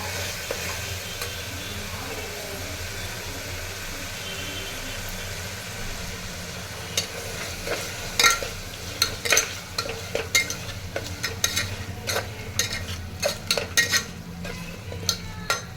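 Tomatoes and onions with a little coriander powder sauté for a vegetable kurma, giving a steady frying sizzle that gives way to busy, repeated clattering stirs against the pan in the second half.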